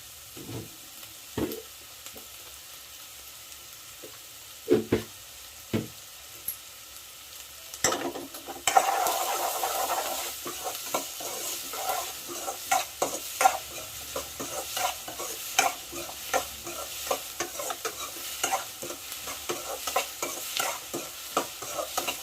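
Dried fish thokku being stirred and fried in a pan, with scattered spoon scrapes and taps at first, then a steady sizzle of frying under continued stirring, close and moderately loud, no talking.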